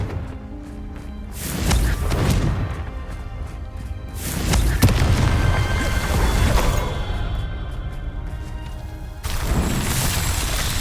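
Fiery Confringo blasting spell going off in the Hogwarts Legacy video game: repeated crashing bursts and rumbling booms in a dense battle mix, with a sharp blast near the middle and another surge near the end, no talking.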